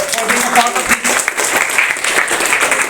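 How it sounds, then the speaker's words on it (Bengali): Audience applause at a school event, a dense wash of clapping that continues steadily throughout with voices mixed in. "মানুষটার জন্য একটা হাত তালি হবে।"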